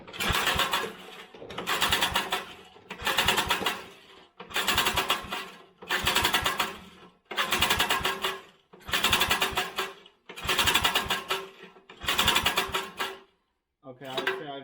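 A flooded vintage Briggs & Stratton engine is cranked over and over in eight or nine rhythmic bursts of chugging turnover, each about a second long and separated by short pauses, without starting.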